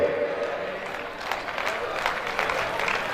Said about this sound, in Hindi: भारत माता की एक बार जोरदार ताली अपने कोच के लिए